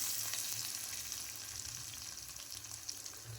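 Sliced small onions (shallots) and curry leaves frying in hot oil for a brinjal and green gram curry, giving a steady, soft sizzle with low crackle throughout, no voices.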